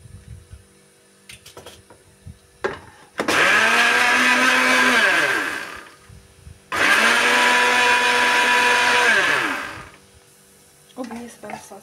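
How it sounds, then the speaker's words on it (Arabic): An electric blender whirs loudly through volcano cake batter made with sugar and cocoa, running in two long sustained bursts with a short pause between them and quiet kitchen clatter before and after. "كندير الضرب ولا كندير الخلاط الكهربائي"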